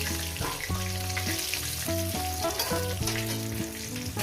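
Rohu fish heads frying in hot oil give a steady sizzle and crackle, with occasional stirring underneath prominent melodic tones that sound throughout.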